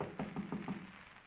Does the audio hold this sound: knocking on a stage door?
yes